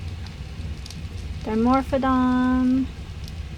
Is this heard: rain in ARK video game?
yes